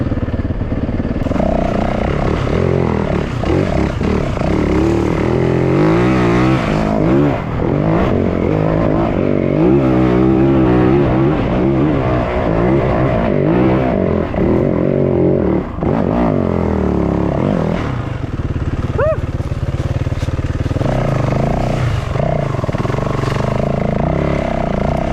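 Yamaha WR450F dirt bike with an uncorked exhaust revving hard as it climbs a rocky hill, a loud, continuous engine roar that surges and drops with throttle changes throughout.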